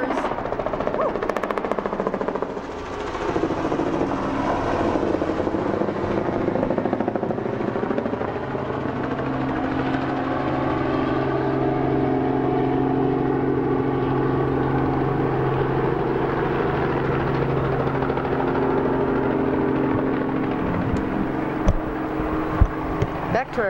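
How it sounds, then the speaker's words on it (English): A tour helicopter drones steadily over South Dakota with a deep, throbbing rotor hum that swells and shifts as it passes overhead, loud and continuous throughout. "here comes the helicopter, if you can hear it"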